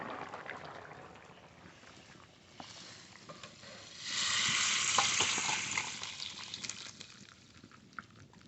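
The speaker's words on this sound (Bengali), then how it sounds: "কড়াইতে সরষের তেল ফোড়ন করে নেব" Spices fry in mustard oil in a wok, a soft crackling sizzle with scattered pops that swells into a louder, denser burst midway before easing back; no voices.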